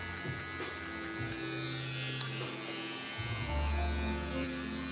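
An electric hair trimmer buzzes steadily and close during a fade haircut, its hum shifting in pitch as it works along the hair near the ear.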